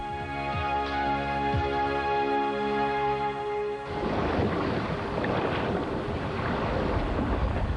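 Steady wind rushes past the microphone over a low rumble of water against a sailing boat's hull at sea near Bermuda, the tone shifting partway through as gusts and spray take over.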